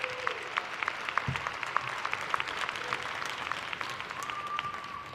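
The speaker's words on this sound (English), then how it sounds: "so they should have a round of applause just for that" Audience applause at a multicultural graduation ceremony, a crowd clapping steadily with a few sharper nearby claps and cheers standing out over the continuous wash of hands.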